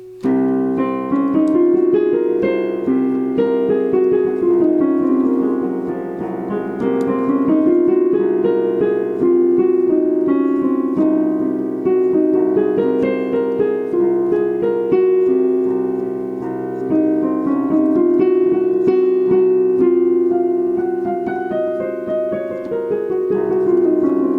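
A melodic instrument plays a continuous run of notes up and down the Locrian scale, steady and even in rhythm, loud and close with no voices.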